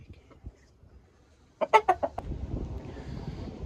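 Chickens clucking outdoors on a nature walk: a quiet stretch, then a sudden burst of loud, close clucks and squawks, followed by softer ongoing clucking over a low background rumble.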